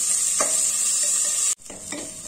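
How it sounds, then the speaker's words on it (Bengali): Chopped garlic, ginger and onion sizzle loudly in hot oil in a pan, with two scraping stirs and a brief cut in the hiss between them. "আর একটু আদা কুচি দেবো। দিয়ে এটাকে একটু নাড়াচাড়া করবো।"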